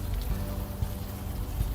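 Rain falling steadily in the video game Unavowed, a soft continuous patter with a few faint drops standing out, no voices.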